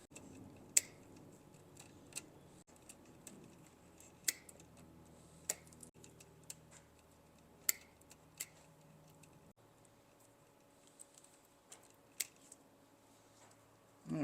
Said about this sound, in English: So we're just going to cut these old wires out.